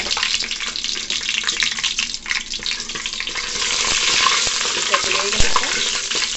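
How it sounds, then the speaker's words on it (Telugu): Green chillies and onions frying in hot oil, a dense crackling sizzle with stirring scrapes and occasional pops, close and steady. "ముందుగా పచ్చిమిర్చి, ఉల్లిపాయ ఇవి ఎర్రగా వేగేంతవరకు"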